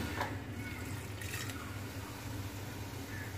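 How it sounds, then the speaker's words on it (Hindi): Water being poured into a pot of black gram (kala chana) with spices, a steady splashing, filling sound running continuously at moderate volume with no talk. "हमने पानी इसमें डाल दिया है"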